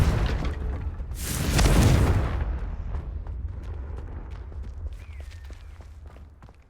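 Confringo fire spell explosion from the game Hogwarts Legacy: one loud, close booming blast that bursts and rumbles for about a second, then dies into crackling debris and faint scattered clicks.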